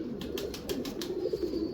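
Pigeons coo softly in a breeding setup, a faint low rolling murmur with a few brief flutters or wingbeats, no voices.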